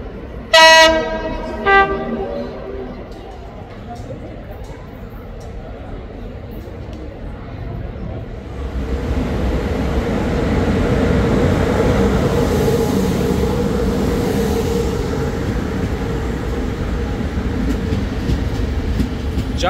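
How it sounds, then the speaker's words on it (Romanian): A Sibiu–Bucharest passenger train arrives in the Prahova Valley near Sinaia, opening with a loud horn blast, then a steady rising rumble and rattle of wheels and carriages drawing close, with faint voices in the background. "Vine trenul Sibiu București."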